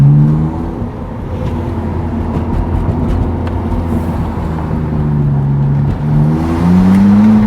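A BMW E85 Z4 with broken struts driven hard along a winding road, a loud close engine drone holding steady and then climbing in pitch toward the end.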